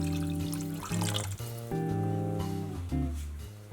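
Cold water is poured into a pot of green Puy lentils with cloves, juniper berries, salt and pepper, making a close, continuous splashing stream whose hollow resonant tone shifts in pitch as the pot fills.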